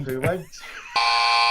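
A loud electronic buzzer blares in one steady, sustained tone right after a brief spoken phrase, close and harsh.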